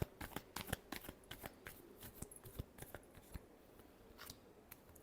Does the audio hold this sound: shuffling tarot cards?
yes